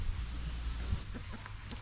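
Several chickens cluck softly nearby, with short, scattered calls sitting under steady outdoor background noise.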